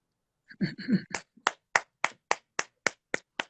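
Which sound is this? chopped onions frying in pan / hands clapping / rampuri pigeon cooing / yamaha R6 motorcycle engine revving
hands clapping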